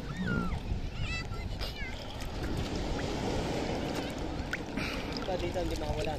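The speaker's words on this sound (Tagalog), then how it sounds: "ito yun guys, ang laki na ng alon" Large ocean waves churning and splashing around a small boat out at sea, a steady broad wash of water noise with voices calling over it.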